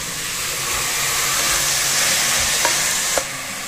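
Finely sliced onions hit hot oil in a pan for a country chicken curry, a loud, steady hiss and sizzle with a couple of faint clicks near the end.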